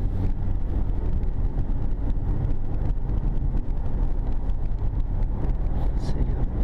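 A 2013 Honda Ridgeline pickup accelerates on a test drive, its engine roar and road noise filling the cabin as a steady, loud, continuous drone.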